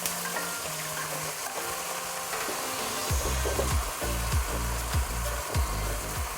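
Garlic, ginger and green chili paste sizzles and fries in hot oil, with a steady crackling hiss and occasional scraping or stirring sounds up close.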